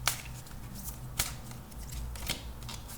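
A card is drawn from a Shiva Oracle tarot deck, with soft papery shuffling and sliding rustles and a few brief crisp snaps, close and quiet, and no voice.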